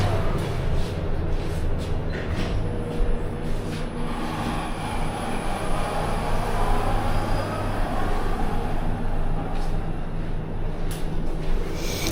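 A metro train rumbles steadily through an MRT station in Malaysia, a low continuous roar with brief higher clatters, loud and close throughout.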